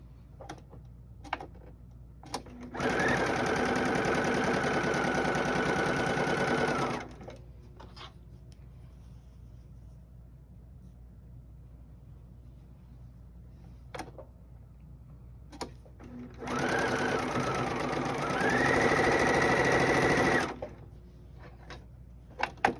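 Two separate bursts of a sewing machine joining quilt block rows, each several seconds long and fairly loud, with quiet handling clicks and rustles between them and no speech.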